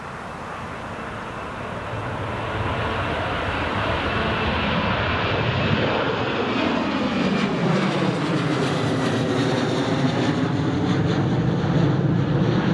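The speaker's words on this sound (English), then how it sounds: "here goes the Jet 2" A Jet2 airliner passes at Newcastle Airport with a loud, sustained jet engine roar that swells and sweeps in pitch as it goes by, heard close and alone.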